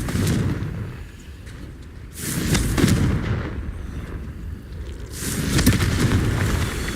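Confringo fire spell blasts in Hogwarts Legacy, loud booming bursts in rolling waves, one after another, with a constant rumbling backdrop and no speech.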